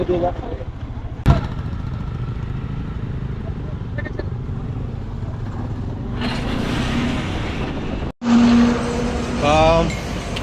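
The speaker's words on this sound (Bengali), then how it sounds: "বাইক ঢুকছে" Motorbike engine on a road approaching a toll crossing on the way from Kolkata through Farakka, steady engine drone throughout with a sharp knock near the start and a brief dropout late on, a passing horn-like tone at the end.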